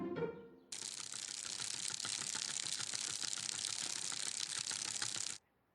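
Bicycle wheels spinning as a sound effect in a guessing game, a dense, steady ratcheting whir that starts abruptly, runs loud for about five seconds, and cuts off sharply.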